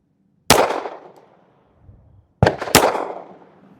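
A Smith & Wesson Bodyguard 2.0 pistol in .380 ACP fires Underwood 68-grain Extreme Defender rounds outdoors: one sharp crack, then a quick pair of shots with short decaying echoes, loud and close.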